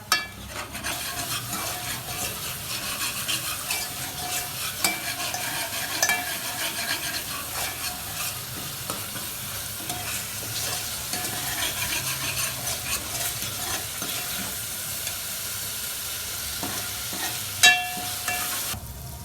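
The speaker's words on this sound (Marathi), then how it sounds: "आता वाटणाला चांगलं फ्राय करून घ्यायचं आहे त्याला जास्त वेळ लागणार नाही" Homemade spice paste (masala) frying in oil for a Dhangari chicken curry, a steady close sizzle with frequent scraping stirs of a spoon against the pan, continuing for about twenty seconds with no talking.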